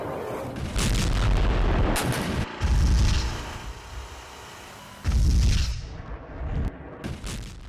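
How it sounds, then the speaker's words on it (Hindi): Rocket strikes from Sukhoi-25 attack aircraft in a war zone produce heavy booms and rumbling blasts, with three big impacts separated by quieter rolling noise, loud and without speech. "सुखोई 25 से ताबड़तोड़ रॉकेट अटैक यूक्रेन की तरफ से किए गए हैं।"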